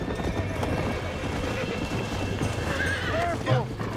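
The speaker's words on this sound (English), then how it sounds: "Uncle can tell that this is a feisty horse." In the video game Red Dead Redemption, a feisty horse neighs in sharp, rising whinnies near the end, over steady clip-clopping hooves and background game noise, with a person talking throughout.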